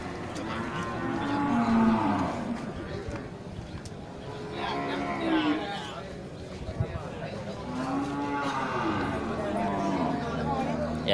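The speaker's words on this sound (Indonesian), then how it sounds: "Ini banyak juga terlihat sapi Aceh ya, sapi jantan ya, dari jenis sapi Aceh dan sapi simental." Aceh and Simmental bulls low repeatedly at a busy Geurugok livestock market, with several drawn-out moos rising over a steady crowd murmur and voices talking nearby.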